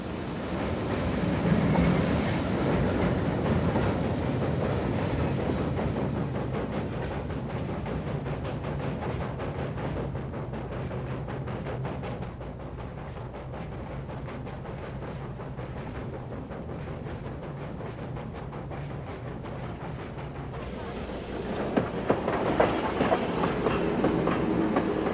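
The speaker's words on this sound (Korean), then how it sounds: "세상을 떠난 지 3시간이 지나 열차는 어하구역에 도착했다" A train in China crossing the Tian Shan mountains rumbles along the rails with steady rhythmic clickety-clack, loud and continuous, the noise swelling and growing brighter near the end.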